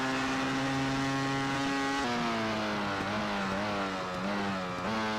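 A racing motorcycle engine in the MotoGP 13 video game drones continuously at high revs, pitch dipping and rising slightly through gear changes and corners, loud and steady with no gaps.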